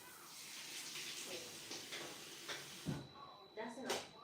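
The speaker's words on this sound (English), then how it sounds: "Come and wash your hand." Water running from a tap as a young child washes hands at a sink, a steady hiss of flow with a few splashes and a clunk near the end, while an adult talks over it.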